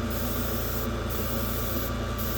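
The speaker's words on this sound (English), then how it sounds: "We're just doing a misting coat here, just like when you're airbrushing." Misting coat of paint sprayed from a can onto a model car, a steady broadband hiss that holds without pause for a couple of seconds, close and fairly loud.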